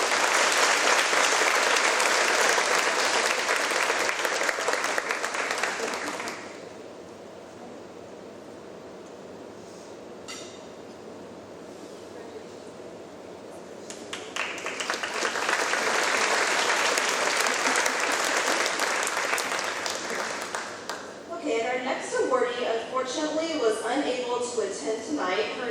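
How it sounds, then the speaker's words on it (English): An audience at a youth character-excellence award ceremony claps in two long loud bursts of dense applause, broken by a quieter lull in the middle, before the clapping thins to scattered hands at the end. "So please join me in a big round of applause for her."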